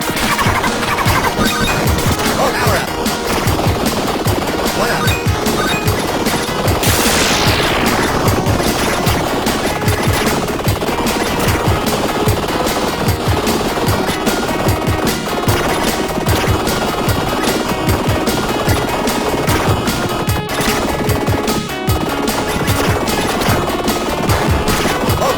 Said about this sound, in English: He just stays in the air and he shoots bullets at you.